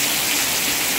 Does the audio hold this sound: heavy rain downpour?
yes